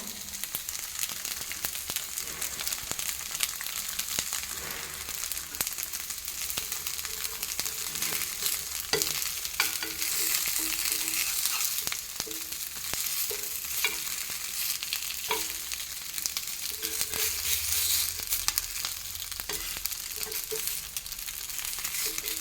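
Pathrode slices fry in a pan over medium heat and are turned now and then, giving a continuous close sizzle with occasional scraping and stirring scuffs.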